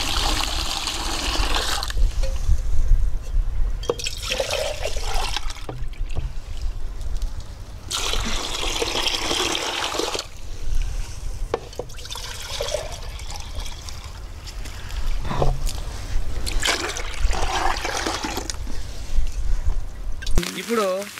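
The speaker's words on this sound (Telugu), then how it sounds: "ఇప్పుడు ఒక టబ్బులో 4 లీటర్ల నీళ్ళు తీసుకోవాలి." Water poured into an empty tub, measuring out four litres, heard as bursts of splashing and trickling between pauses, with people talking throughout.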